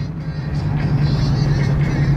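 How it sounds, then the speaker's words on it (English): A Rover P6 3.5 V8 engine drones steadily at low pitch as the car drives, a loud continuous hum with a strong low-frequency tone and faint road noise. "Your first dab of Rover V8 power."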